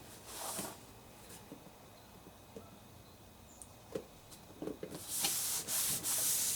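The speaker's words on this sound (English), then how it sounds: "use my little rag to wipe off any excess glue" Soft, quiet rubbing of a small rag wiping excess glue from wooden craft pieces, in several short strokes followed by a louder rustling burst near the end.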